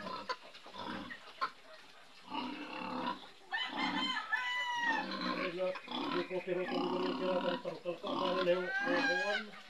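Pet pigs being fattened grunt and squeal in a farmyard where chickens cluck and crow nearby. Their calls come in repeated bursts at close range, mixed with people talking over the animals.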